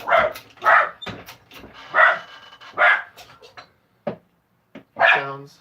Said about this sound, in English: He sounds like a killer, but he's a tiny dog.